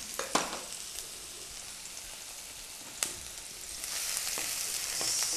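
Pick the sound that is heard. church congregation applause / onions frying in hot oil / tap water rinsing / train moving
onions frying in hot oil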